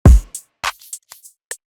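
Punchy kick drum sample from the Vibes kit, one deep booming hit followed by a few sparse crisp percussion ticks and hat hits spaced out in a melodic beat, heard alone and clean.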